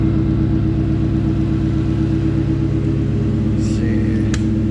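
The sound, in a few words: restored car engine running and revving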